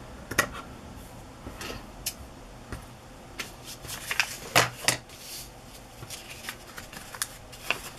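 Scissors make sharp, irregular snips trimming lace for a sewn journal page, close and fairly quiet, with a few louder cuts clustered together and no talk.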